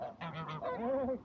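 Waterfowl at a park pond honk a few short, nasal calls in quick succession, close and fairly quiet, with no talking.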